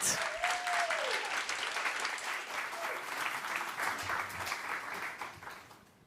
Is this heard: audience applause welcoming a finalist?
yes